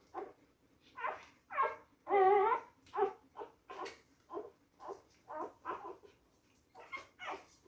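Several short, high-pitched whimpers and squeaks from newborn puppies suckling, close and repeated in an uneven rhythm, with no talking.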